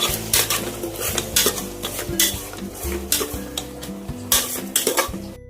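A metal spoon clanks and scrapes against a pan while tomatoes with salt and turmeric sizzle, loud close repeated stirring strokes in an irregular rhythm, for a wedding-style vegetable pulao, no voices.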